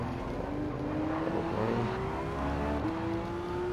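A Porsche's engine rises steadily through the revs in a racing video game, a continuous loud whirring drone climbing in pitch with a brief dip near the middle before climbing again.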